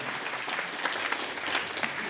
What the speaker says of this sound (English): Round of applause for such an excellent DJ.